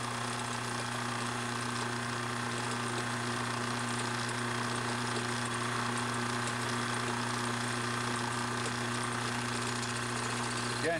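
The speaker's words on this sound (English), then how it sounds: "I'm gonna put my lathe in reverse, and I will cut my taper" A lathe running in reverse while cutting a taper on a one-piece clock barrel, a steady loud motor hum with a constant tonal drone and faint scraping of the tool throughout.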